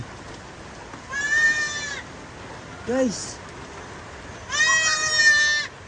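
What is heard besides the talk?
goat bleating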